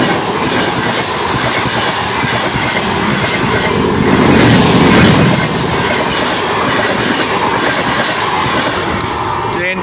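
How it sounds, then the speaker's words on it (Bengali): A trial passenger train from Dhaka rolls into Narail station, its wheels clattering loudly and steadily on the rails, swelling briefly as the carriages pass close by. "তো অলরেডি ট্রেন চলে এসেছে আমরা দেখতে পাচ্ছি।"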